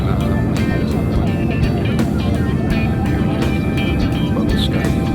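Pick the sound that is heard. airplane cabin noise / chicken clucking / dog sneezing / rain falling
airplane cabin noise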